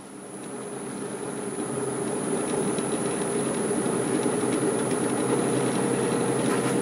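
A wood lathe spins a mimosa vase blank at about 600 RPM, running smoothly with a steady, continuous whir and hum that swells slightly at the start, then holds even throughout.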